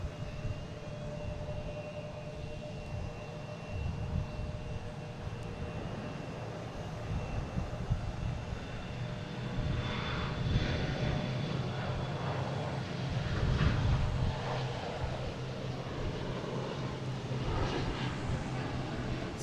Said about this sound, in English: next taking off, we have a Delta E-175 heading to Richmond.